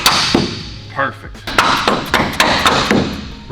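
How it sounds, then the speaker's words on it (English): A reverse hammer works loose suspension arms under an AE86 Corolla, giving a run of sharp metallic impacts, about seven hits in quick uneven rhythm, loud and close. "Reverse hammer."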